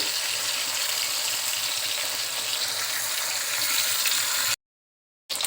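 Fish frying in oil in a wok: a constant hissing sizzle with no voice, close and even, cut by a short gap of silence near the end before the frying resumes.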